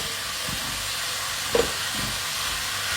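Leftover cheesy taco pasta hitting a hot pan gives a steady steamy hiss and sizzle, with a brief clatter partway through.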